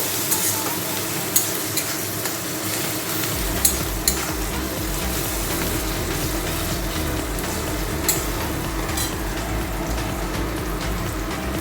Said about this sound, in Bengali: দেবো হলুদ গুঁড়ো এটাকে ভালো করে একটু ভেজে নেব